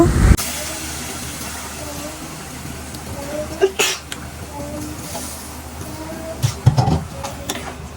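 Pieces of shark fish land in a hot pan of fried-down chillies, setting off a loud hissing sizzle close up that settles into a steady fry, with a few clinks and bumps later on.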